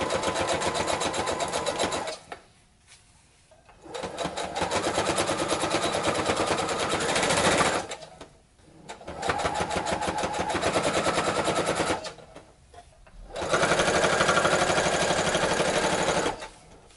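A sewing machine top stitches the folded lining of a jacket, running in four long loud rapid-chattering bursts separated by short quiet pauses.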